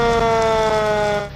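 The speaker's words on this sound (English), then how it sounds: "When fire and smoke appear, so does the sounds of sirens." A fire engine siren wails loud and close, a sustained tonal blare holding steady before fading off at the end.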